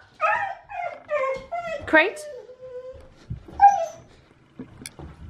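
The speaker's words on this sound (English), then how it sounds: "That was a bark." A pet dog at home gives a run of whimpering yips and a short bark, close by, while a person speaks briefly in between.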